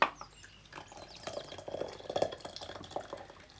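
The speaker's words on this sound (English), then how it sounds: "Just put them in your teapot and top it up with boiling water" Boiling water poured over sprigs of lemon balm in a teapot: a soft, close trickle and splash of liquid with light dripping, quiet and continuous after an initial clink.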